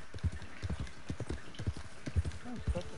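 Horse hooves clip-clop in Red Dead Redemption 2, a close, steady, rhythmic series of hoofbeats with someone talking over them.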